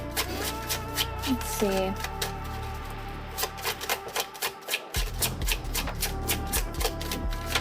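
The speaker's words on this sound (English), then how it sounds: "I'm sitting here shuffling the cards and they're being quiet" Tarot cards being shuffled by hand, giving repeated soft riffling and rubbing bursts at close range, with a person speaking briefly over the shuffling.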